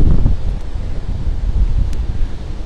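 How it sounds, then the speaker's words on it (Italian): Strong wind buffets the microphone on a seafront during a storm surge, a steady loud roar of gusts mixed with surf noise, with no voices. "questa mareggiata, caratterizzata da un forte vento"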